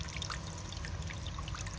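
A small bird bath fountain trickles and splashes water steadily and softly, a continuous close burble with no talking.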